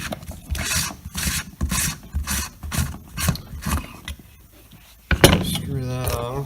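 A fuel bowl housing on a 7.3L Powerstroke truck being unscrewed, giving rhythmic rasping, ratcheting turns up close. A short clunk comes near the end, followed by someone briefly speaking.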